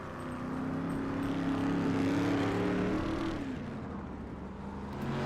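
Race cars at a Turkey Bowl Nationals track event roar past in a steady, loud engine drone that swells, then fades slightly as they pull away, with no talk.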